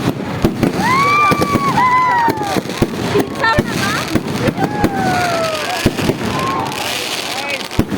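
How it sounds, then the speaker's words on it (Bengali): Public fireworks display at an outdoor event, with repeated sharp bangs and pops at irregular intervals alongside rising whistles, while someone speaks loudly over a public address system throughout. "আপনারা বাইরে এসে তারপরে আপনারা আতশবাজি প্রদর্শন দেখুন।"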